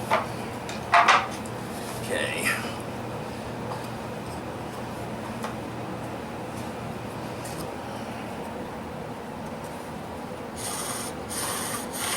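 A bow drill spins a yucca spindle in a divot on a fireboard, giving a steady, even rubbing and grinding hiss that runs throughout, close up, with a few brief knocks near the start.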